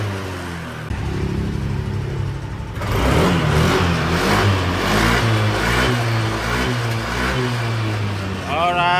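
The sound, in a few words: Yamaha NMAX V2 motorcycle engine starting and revving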